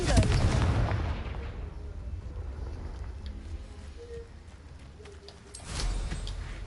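A Confringo fire spell from the video game Hogwarts Legacy erupts in a loud booming blast, followed by a rumbling tail and a second lighter burst near the end.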